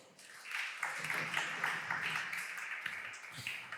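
A church congregation breaks into applause, a dense, sustained patter of many hands clapping at moderate distance that swells and continues for several seconds, with faint voices mixed in.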